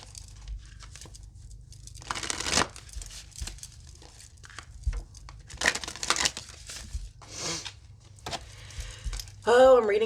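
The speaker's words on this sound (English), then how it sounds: "I probably should have been shuffling this whole time" A deck of tarot cards being shuffled by hand, with bursts of riffling and crinkly card noise spread across the stretch, some louder than others, and a brief vocal sound near the end.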